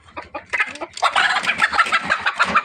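A labuyo (red junglefowl) rooster clucks close by in quick, irregular bursts that grow denser and louder partway through, with no talking.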